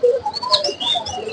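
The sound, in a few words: aviary birds chirping: cockatiels, budgerigars, lovebirds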